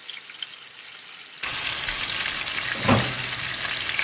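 Spice paste hitting hot oil in a pan with a sudden burst of sizzling that continues as a steady, close frying hiss, with a brief louder crackle partway through.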